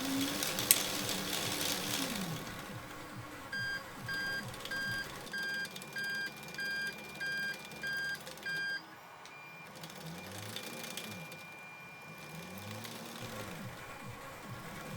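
3D-printed hoverboard tank tracks and sprockets, grey parts printed in PLA at 15% infill, running with a smooth mechanical whir and rhythmic clatter, then a run of regular electronic beeps and later low motor surges.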